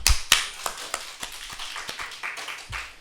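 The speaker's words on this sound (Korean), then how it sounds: "박수 한번 쳐줘보세요" Congregation members clap their hands in a church service, a loose run of sharp, separate claps, fairly close and moderate in level, with no talking over them.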